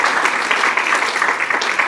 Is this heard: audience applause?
yes